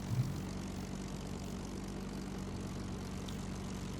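A low-revving Merlin piston aircraft engine in the IL-2 flight combat game, a faint, steady idling drone with a low, even hum and slight roughness throughout.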